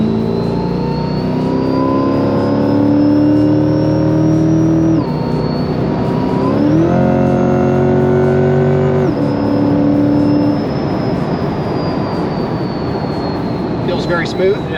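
A C8 Corvette fitted with a Lingenfelter Magnuson supercharger revs loud and close under part throttle in track mode, with a rising supercharger whine, a downshift step in pitch partway through, and steady engine drone throughout.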